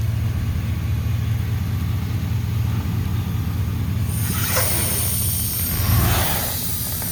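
An ATV engine runs steadily in low range during a tire change, a low continuous rumble that holds even, then gets some louder mechanical clatter and rattle toward the end, with no voices.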